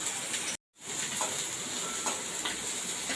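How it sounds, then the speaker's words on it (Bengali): Dried red chillies and five-spice (panch phoron) tempering sizzle steadily in hot oil, a close, continuous hiss broken by a brief drop-out near the start. "শুকনো লঙ্কা ফোড়ন দিয়ে দিলাম পাঁচ ফোড়ন দিয়ে দিলাম"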